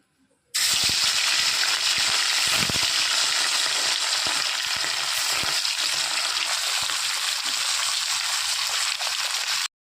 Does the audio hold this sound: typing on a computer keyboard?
no